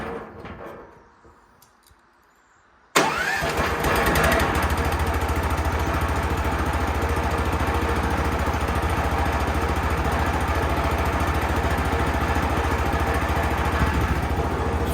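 A small wood chipper's engine starts after a quiet pause and then runs steadily, loud and close, with a rough, even mechanical drone and no voices.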